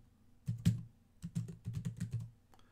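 Keys tap on a keyboard while a title is typed into a OneNote app on a Boox Tab Mini C tablet, in short bursts of close, quiet clicks separated by brief pauses.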